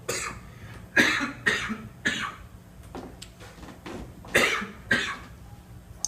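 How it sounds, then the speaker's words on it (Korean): A man coughs repeatedly, about eight close, loud bursts spaced roughly half a second to a second apart, some sounding like throat clearing, with no speech between them. "왜 그런지 모르겠는데 기침이 계속 나네요"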